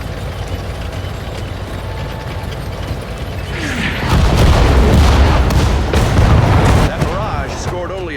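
Howitzers fire in the Sudden Strike 4 World War II strategy game, set in the North African desert at El Alamein. Mechanical clanks lead into heavy booming blasts that swell and rumble, with a voice speaking over the battle.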